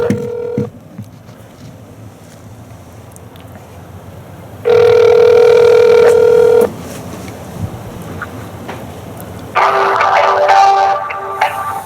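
Phone line on hold while waiting for a representative at the Iowa Secretary of State's office: steady hiss broken by two sustained electronic tone bursts, loud and close, with no talk.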